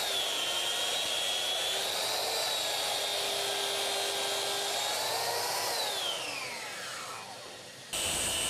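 A Bosch handheld saw with a TCT blade cuts internal dividers for a TV cabinet, giving a loud high whine that holds steady, then drops in pitch as the motor spins down, before a brief restart.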